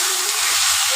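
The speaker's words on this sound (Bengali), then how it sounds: "এবার এটাকেও আমি কষাতে শুরু করি" Chicken masala sautéing in a pan for an Aminia-style chicken dish, a brief dense hiss and sizzle heard close and loud on its own.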